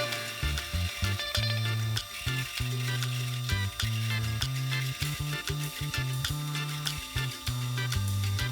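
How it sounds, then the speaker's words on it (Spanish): A half-inch drill bit grinds in repeated bursts, its pitch dipping and recovering as it bites into material, with short pauses between passes. "Ahora estoy perforando con broca de media."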